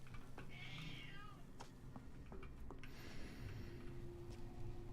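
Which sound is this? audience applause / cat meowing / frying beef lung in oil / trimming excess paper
cat meowing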